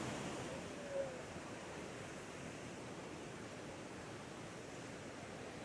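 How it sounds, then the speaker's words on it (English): Rushing water along the Route of the Hiawatha rail trail, a steady broadband roar that fills the whole clip at moderate distance, with no speech over it. "can you hear all that water?"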